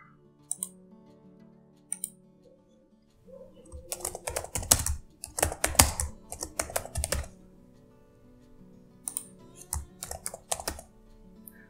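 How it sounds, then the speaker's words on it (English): Short bursts of computer keyboard typing with quiet gaps between them, as product letters are entered into a search field; the keystrokes sound close and crisp, with no voices. "Search the product by typing its initial letters"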